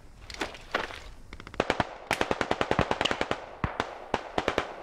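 Rocket artillery salvo firing in Steel Rain, heard as a rapid, loud chain of sharp cracking launches that speeds into a dense rhythmic burst, then spaced reports toward the end.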